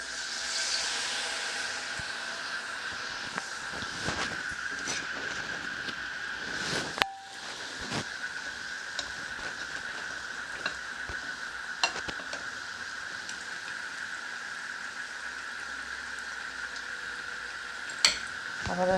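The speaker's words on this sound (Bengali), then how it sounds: "এটা দিয়ে দেবো তেলের মধ্যে।" Veg omelette frying in hot oil, a steady bright sizzle that lasts throughout, broken by occasional clinks of a utensil against the pan and a short scraping stir, fairly quiet and close.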